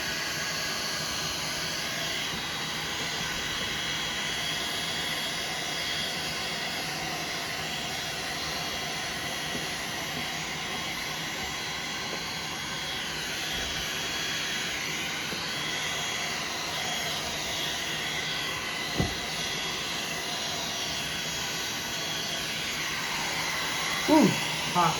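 A heat gun blows hot air in a steady, loud broadband roar with a fixed whine, running continuously for the whole stretch while scrap is worked on a Club Car Carryall golf cart, with brief clicks near the end.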